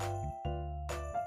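Sleigh bells tinkle and ring in clear bursts against a steady low musical hum, with a gap in the middle before a second bright jingle near the end.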